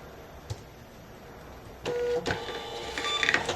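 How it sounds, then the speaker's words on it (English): Polono thermal printer feeding out a shipping label: a short whirring, buzzing run of the print mechanism after a click and a brief beep, fairly close and alone. "I'm going to print out her label, and we're going to print that really quickly."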